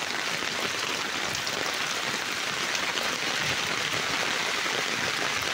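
Heavy rain falls steadily on a flooded road in Nairobi, a dense, even hiss of drops that continues without a break and with no voices.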